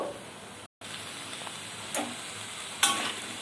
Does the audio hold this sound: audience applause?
no